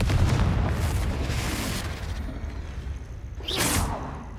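A Confringo blasting spell cast in Hogwarts Legacy on PS4: a booming, rumbling explosive burst that fades, followed by a sharp bright whoosh near the end.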